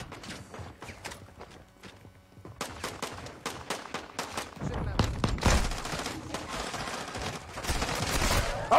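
Gunfire in a crowded multiplayer video game match with many teams, rapid bursts of shots and volleys crackling through the clip and growing denser and louder in the second half, with players talking over it.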